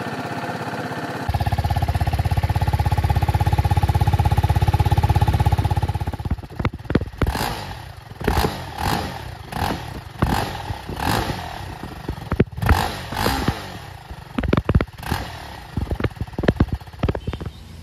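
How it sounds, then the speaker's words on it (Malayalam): A TVS Apache RTR 310 motorcycle starts and idles with a steady, loud exhaust drone, then is blipped through a series of sharp throttle revs with short pauses between them. "ഇനി എക്സോസ്റ്റ് നോട്ടൊന്ന് കേട്ടോ"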